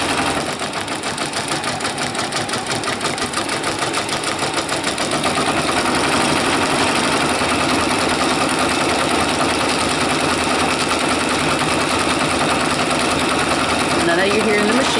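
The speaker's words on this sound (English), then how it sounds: "I know you're hearing the machine bumping." A Brother Persona PRS100 embroidery machine stitches a monogram on a Vera Bradley bag, running loud and steady for the whole stretch with a rhythmic mechanical bumping; no one speaks over it.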